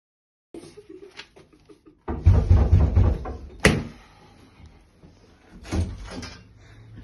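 A street door is opened at midnight in a Tell-Tale Heart reading: faint knocks and creaks come first, then a louder rattling open with a sharp knock-like bang, and a later thud.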